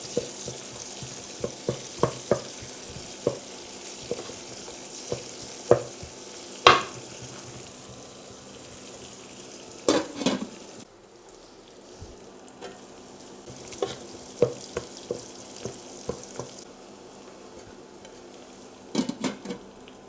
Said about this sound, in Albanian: Ashtu i hedhim qepën e njom